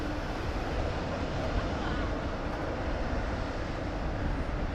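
A Qantas Boeing 787-9 Dreamliner airliner operating at DFW Airport at night gives off a steady, broad roar of jet engine noise that holds evenly throughout, continuous and fairly loud with no talk over it.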